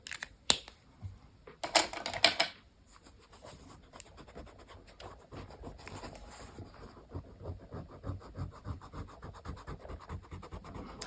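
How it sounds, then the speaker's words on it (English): An eraser rubs out pencil lines on paper during an ink and wash daisy painting: a few quick, loud scratchy bursts early on, then a quieter, steady rhythmic rubbing that continues close to the microphone. "Erase the pencil line."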